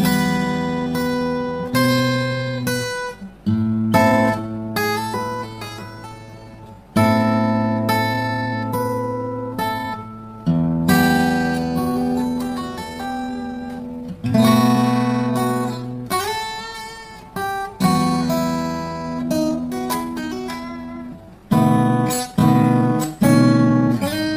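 Plucked fingerstyle guitar playing Hungarian Dance No. 5, picked melody over a repeating bass pattern, played in several passages separated by brief pauses, close and clear.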